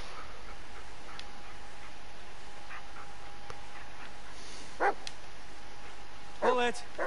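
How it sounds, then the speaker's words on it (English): A dog barks a few times in the Blair Witch video game, short sharp barks near the end over a quiet, steady ambient hum with faint ticking. "That sound like a dog as well."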